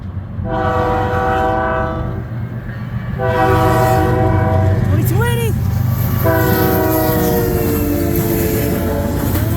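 CN freight train M357, led by locomotive 2280, rolls through Ladysmith, Wisconsin, with a loud, close horn sounding three long blasts over a constant heavy rumble of passing cars.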